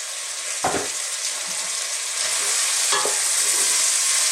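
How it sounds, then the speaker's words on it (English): Mixed vegetables for a vegan stew sizzle steadily in a pan over medium heat, with a couple of louder scraping tosses of the pan cutting through a bright, constant hiss, close and without talk. "on this kind of medium type heat, I'm just going to sort of throw these around in the pan and sweat them"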